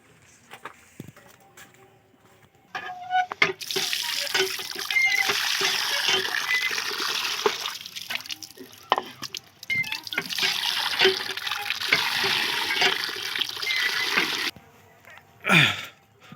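Tap water runs in a steady hissing stream for about eleven seconds, filling a container for pet pigeons, with a few knocks and clatters before and after and a brief pause midway.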